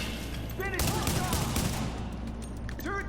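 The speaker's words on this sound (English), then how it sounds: "Note the blind fire from behind cover." Bursts of enemy gunfire in The Division as foes blind-fire from behind cover, rapid cracks clustered mid-clip with a voice talking over the shooting.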